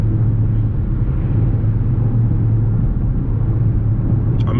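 A Dodge Charger RT's engine rumbles as a deep, steady drone while driving, loud and constant from the cabin with no break.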